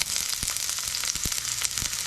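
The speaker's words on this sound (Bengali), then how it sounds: "আর সেম তেলে আমি পেঁয়াজ কুচিটা ছেড়ে দিলাম।" Chopped onions sizzle in hot oil that garlic was just fried in, a steady close-up crackle with a few soft stirring knocks.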